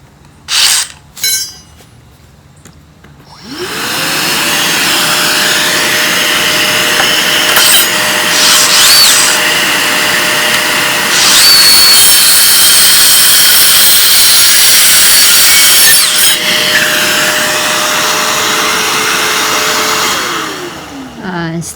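A Dewalt Atomic 4 1/2 inch circular saw spins up with a rising whine and cuts through wood in a loud, sustained close drone, then winds down, with a few brief knocks before it starts.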